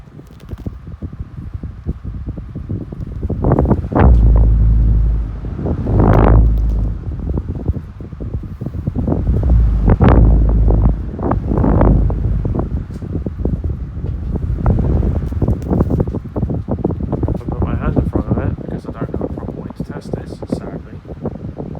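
Two 12-inch desk fans from 1995 and 1996 run on low, making a steady whoosh with gusty buffeting against the microphone while a person talks over them.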